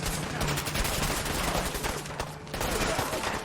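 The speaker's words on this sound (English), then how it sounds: "there's clearly people shooting at all sorts of stuff" Gunfire from people shooting in a video game, a dense, continuous rattle of many overlapping shots at a steady distance with no clear pause.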